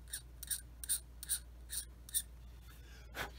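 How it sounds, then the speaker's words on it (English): A hobby knife scrapes seam lines on a plastic part of a Dragon 1/35 Elefant model kit, making about seven short, crisp scraping strokes in a steady rhythm, close up and quiet, ending with one slightly longer stroke. "I'm going to take my knife and these seam lines here, I'm going to scrape those smooth."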